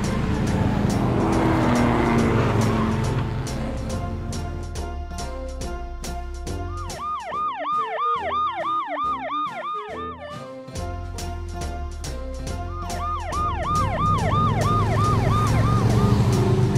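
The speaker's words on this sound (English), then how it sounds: "Police car." Police car siren wailing in a rising and falling sweep over a busy musical mix, with traffic-like engine rumble beneath; the siren pattern repeats loudly through the middle and again near the end.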